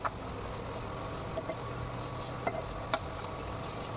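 Sliced onion, green chili, cinnamon, cardamom and cloves frying in oil for paneer butter masala, a soft steady sizzle with faint scraping stirs, close but quiet and without talk.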